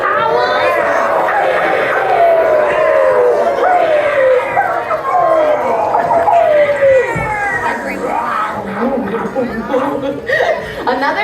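A Halloween show audience at Sesame Place imitates werewolf howls, rising and falling wails overlapping with laughter and chatter, loud and sustained throughout.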